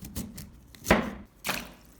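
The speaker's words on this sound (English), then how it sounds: "Then start slicing carefully." A knife slices through fresh ginger root on a cutting board, giving a few distinct close chops spaced about half a second apart, with no talking.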